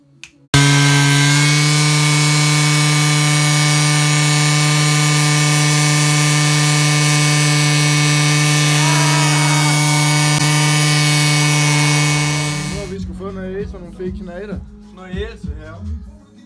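A banger race car does a burnout, spinning its tyres: a loud, sustained high-revving engine wail holds for about twelve seconds, then drops away as voices talk.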